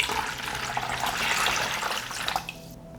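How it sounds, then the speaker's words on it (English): Water pours from above into a deep container, a steady close splashing and gurgling stream that tapers off and stops near the end, with no talk. "I pour water into a deep container."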